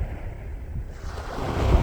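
Ocean waves washing onto a beach, a soft steady surf and wind that swells louder toward the end, heard alone without talk.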